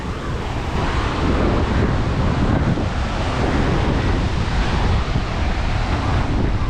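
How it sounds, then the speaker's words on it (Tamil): Strong wind buffets the microphone over a steady wash of sea waves on the coast at Colombo, Sri Lanka, during a rainstorm, a constant roaring hiss with no voices. "இந்த காற்று சவுண்ட் தான் அப்படி அடிக்குது"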